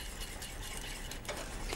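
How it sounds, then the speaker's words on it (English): A basic white sauce of butter, flour and milk boils in a pan, giving a steady close bubbling, sizzling simmer with faint stirring, heard alone with no talk. "You can see it really boiling and it's shiny."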